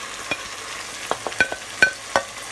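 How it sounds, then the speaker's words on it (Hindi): Potato slices with coriander and green chillies being stirred in a pan, with a soft sizzle beneath several close, sharp clicks and scrapes of a spatula at an uneven rhythm. "तो ये हम डालेंगे आलू की कतलियाँ, सब्ज धनिया, साथ सब्ज मिर्ची जो हमने फ्राई की थी, वो ये सारी चीज़ें साथ डालेंगे।"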